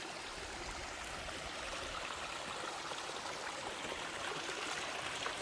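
Water flowing in a stream at Tadfa Waterfall in Chaiyaphum, emerging from underground, a steady close rushing and gurgling wash with no talking.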